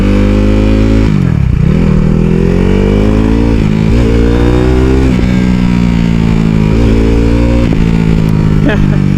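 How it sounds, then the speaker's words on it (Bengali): A motorcycle engine drones loud and close while it slows under engine braking, its pitch sagging and recovering several times as the bike rolls toward a traffic island. "আমি কিন্তু এখন আবার এই ইঞ্জিন ব্রেক ধরতেছি"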